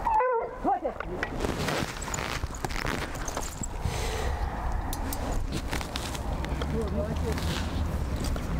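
A dog barks and whimpers nearby, with yips over a rumbling, noisy outdoor background and some talking.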